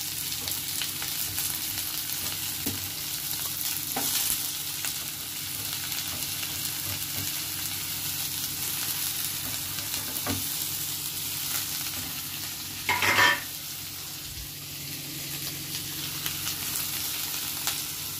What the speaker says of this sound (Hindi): प्याज हमारा भुना जाएगा